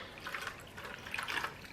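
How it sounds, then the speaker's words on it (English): Liquid poured over ramen noodles in a pot for a one-pot meal, a soft, steady splashing trickle that swells and fades over a moment, close and quiet. "We're just gonna pour this on. We just wanted enough to get all that noodles soaked in"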